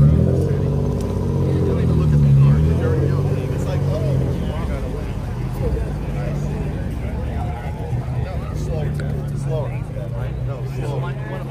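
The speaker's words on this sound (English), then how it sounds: "There's a Corvette." A Corvette engine idles and rumbles at a car show, a loud, steady low growl with a slight swell early on, mixed with background crowd noise and people talking nearby.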